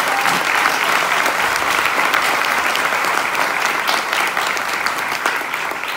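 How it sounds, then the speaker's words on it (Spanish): A church congregation in Barquisimeto, Venezuela gives a loud, sustained round of applause, thick even clapping with some cheering that stays strong throughout and eases slightly at the end. "Quiero que le demos un fuerte aplauso al Rey."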